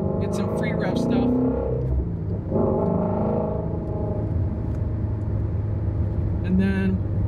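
A Ford Mustang GT350 fitted with a Corsa Double Helixx X-pipe exhaust revs in first gear, its deep engine rumble climbing in pitch while someone talks over it.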